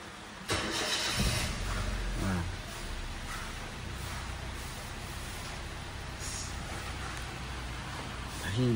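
A rebuilt Toyota Avanza engine with new piston rings and reset valves cranks, catches and settles into a steady idle, fairly close, with voices talking over it.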